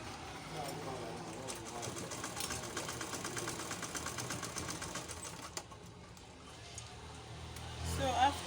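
A sewing machine stitching elastic onto the armhole of a balloon sleeve for a long gown, with a fast, even needle clatter for several seconds that slows and stops near the end, followed by handling noises.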